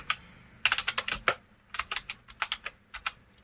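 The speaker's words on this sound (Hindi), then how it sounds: "अब देखिए, जैसे मैं यहाँ पे लिखता हूँ हेलो वर्ल्ड" Someone types short words on a computer keyboard. Crisp key clicks come in two quick bursts separated by a brief pause, close and fairly quiet.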